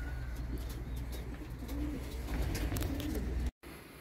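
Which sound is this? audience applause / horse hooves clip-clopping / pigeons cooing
pigeons cooing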